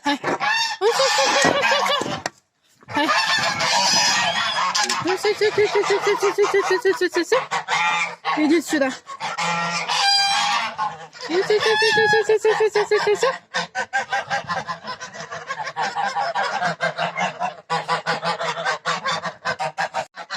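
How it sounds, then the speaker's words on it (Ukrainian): A flock of geese honks loudly and almost nonstop up close, with a person briefly calling to them amid the racket. "Зараз дам гусям, а то вони скоричать у мене."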